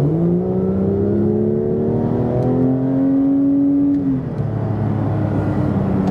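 A Porsche 911 engine sings through a long, steady run with rising and falling tonal harmonics as it pulls, shifting pitch smoothly, loud and close with a road hum underneath.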